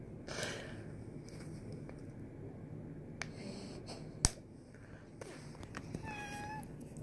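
A cat meows indoors, one short rising call near the end over a low, steady room hum, with a faint snap-like click just before it.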